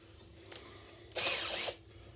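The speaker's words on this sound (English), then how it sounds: "Going to pre-drill" A power drill bores pilot holes for the screws of an Ingersoll door lock being fitted, one short whirring burst of about half a second after a faint click, close and clear with no talk.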